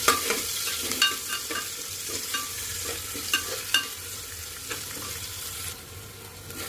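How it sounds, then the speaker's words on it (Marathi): Onion with chili and curry leaves sautéing in a pan of whole spices for matar pulao, a steady close sizzle with a scattering of light scraping stirs and no talking. "आता कांदा घालून घेऊया आणि छान परतून घेऊया."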